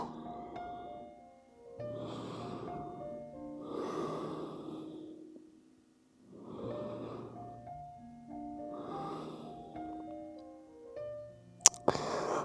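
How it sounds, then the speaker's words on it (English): Slow, deep breaths drawn in and out through the nose during an early-morning yoga stretch for people over 60, about four or five soft airy breaths in a steady rhythm over faint sustained tones, ending with a brief sharp click. "Let's take a few breaths here."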